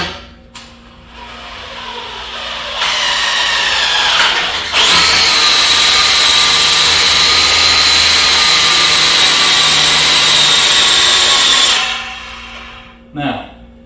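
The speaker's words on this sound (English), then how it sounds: "hold the drill." A power drill raising a motorcycle lift whirs steadily and loudly for about ten seconds after a couple of short starts, then winds down and stops.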